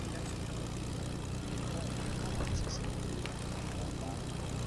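Propeller airplane engine in a video game, a steady droning hum throughout with game sound effects mixed in, heard under faint talk.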